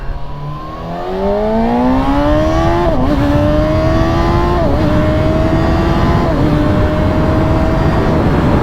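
A motorcycle engine rises steadily through the gears while riding, its loud drone climbing in pitch with brief dips at each shift.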